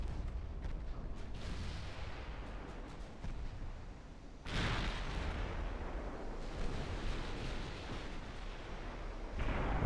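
Heavy 15-inch naval guns firing in the Ultimate Admiral Dreadnoughts warship game, a continuous rumbling barrage of distant booms with a sharper surge of blasts partway through.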